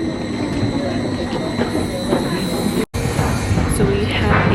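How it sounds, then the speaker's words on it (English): A train pulls in near Lauterbrunnen, Switzerland, a steady rumbling roll with faint rail clatter that carries on throughout, briefly cut by a short dropout midway. "The train's coming."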